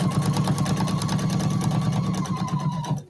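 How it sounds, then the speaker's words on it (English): A sewing machine stitches quilt binding in a fast, steady, close mechanical patter, running continuously and then stopping at the end. "And I'm going to sew again with just the width of that foot."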